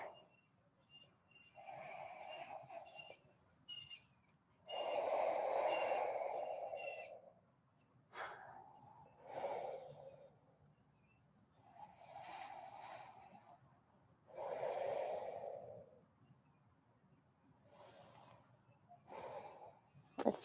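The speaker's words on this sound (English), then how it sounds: "Just take a few breaths." During a gentle yoga hip-opening session, slow, deep breaths come and go in a quiet room, roughly six long inhales and exhales separated by pauses, with no talking.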